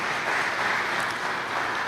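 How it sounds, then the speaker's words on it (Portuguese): Church congregation applauding during a Portuguese-language sermon, a dense steady wash of many hands clapping together with no distinct individual claps, filling the whole stretch at an even, moderately loud level. "Vamos aplaudir ao Senhor"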